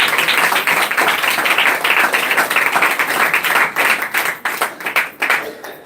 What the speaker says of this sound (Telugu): గరిగ చప్పట్లు కొడదాం.